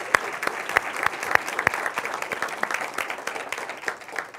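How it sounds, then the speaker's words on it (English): A standing audience at a community talk gives a warm round of applause, dense clapping with a few sharp nearby claps punctuating a continuous wash, steady throughout. "let's give them a big round of applause"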